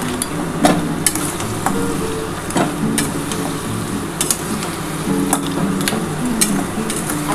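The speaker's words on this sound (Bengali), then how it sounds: "এই মশলাটার সাথে কিন্তু কাঁকড়াটা খুব ভালো করে কিন্তু কষিয়ে নিতে হবে।" Crab sautéing in a spice masala in a pan, loud continuous sizzle with repeated metallic spatula strikes and scrapes against the pan throughout.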